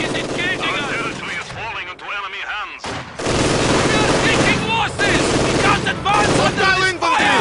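Machine gun fire from an MG team in Company of Heroes 2, rapid bursts mixed with other battlefield gunfire and booms, loud and dense with some voices underneath.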